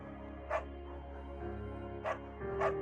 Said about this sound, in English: Bucket's a good dog